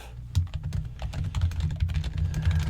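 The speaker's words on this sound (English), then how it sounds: "I will be typing extensive and excessive notes regarding your answers" Rapid typing on a computer keyboard, close and crisp, with irregular clusters of key clicks and clacks continuing throughout, no talk.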